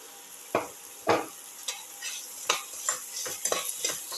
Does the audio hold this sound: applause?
no